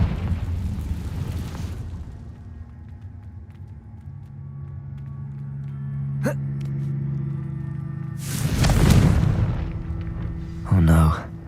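A Confringo fire-blast spell in a Harry Potter video game bursts into a loud, rumbling explosion late in the clip, followed by a shorter crackling blast, over game ambience and a voice.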